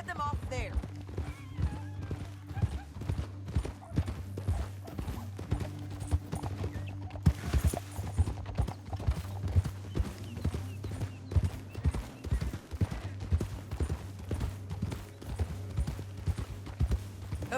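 Horse hooves gallop in the video game Red Dead Redemption 2, a quick, steady clip-clop rhythm throughout, over a low droning hum.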